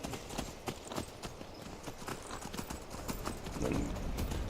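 Horse hooves clip-clop steadily at a walk in Skyrim, the rhythmic footfalls close and moderately loud against a soft ambient bed, with no talking.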